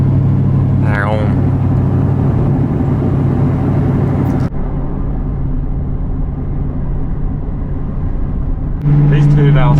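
A New Edge Mustang V8 rumbles loudly and steadily throughout, with brief rising revs near the start and end, and people talking over it.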